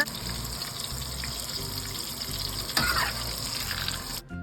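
Tap water runs steadily while purple eggplant is rinsed in a kitchen sink, a continuous splashing flow that swells briefly near the end before cutting off abruptly.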